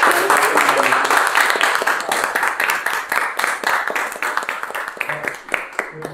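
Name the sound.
applause for the pianist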